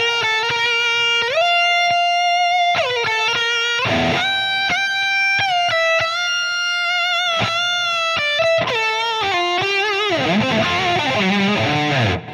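A distorted electric guitar plays a solo, sustained, bending notes with quick runs, loud and continuous, ending in a busier, wavering passage.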